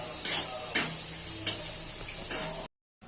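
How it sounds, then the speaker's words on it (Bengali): Soybean chunks frying in oil for a dalma recipe, a steady bright sizzle with a few soft stirring clicks, close and moderately loud, then cutting to silence near the end. "দিয়ে আমি সয়াবিনটা একটু লাল লাল করে ভেজে নেব"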